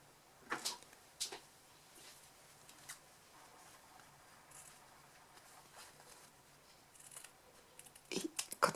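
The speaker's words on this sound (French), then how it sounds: "Maintenant, on va découper au milieu." Scissors cut through fabric for a sewing project making a clothes-peg bag, giving quiet, scattered snips and crisp clicks spaced irregularly over a low background hiss, growing busier at the end.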